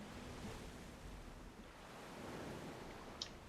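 Open ocean waves in Black Desert Online, a steady soft wash of surf and wind noise, faint and continuous with no talk.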